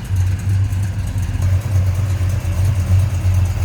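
The 440 V8 of a 1967 Plymouth GTX idles steadily up close, a deep, even rumble with a faint rhythmic lope and no voices.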